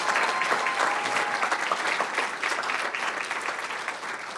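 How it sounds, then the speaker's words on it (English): An audience applauds, a full burst of clapping that holds steady and then begins to thin toward the end. "Let's give another round of applause for our poet in residence."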